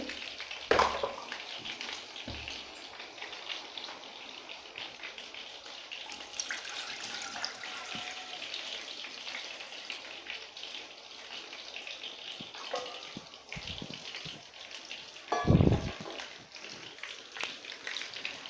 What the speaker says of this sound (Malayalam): ഇതിലേക്ക് നമുക്ക് 6 ഗ്ലാസ് വെള്ളം നമുക്ക് ഒഴിച്ചു കൊടുക്കാം.